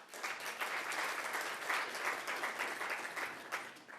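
Audience applause fills a council meeting chamber, steady sustained clapping from many hands throughout, moderately distant and without speech over it.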